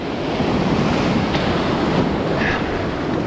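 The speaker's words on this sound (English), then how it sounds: "These waves are hitting us hard." Ocean surf crashes and churns around people fishing from a rock, a loud, continuous roaring wash mixed with wind buffeting the microphone, no talk.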